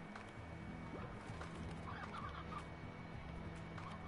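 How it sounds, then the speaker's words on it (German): Chickens cluck softly in the Slime Rancher video game, a few faint clucks set within steady, dense game ambience and background noise. "Da sind die Hühner"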